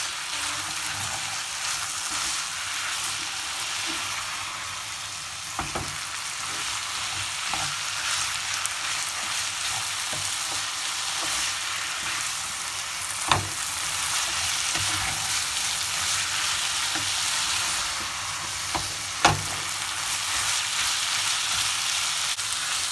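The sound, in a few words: stirring food in a pan over the flame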